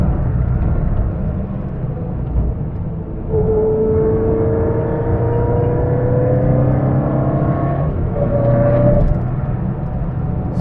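A 1977 Mitsubishi Lancer 1600 rally car engine drives under load, a loud, continuous engine drone heard from close by, with pitch climbing through gears and dipping between shifts.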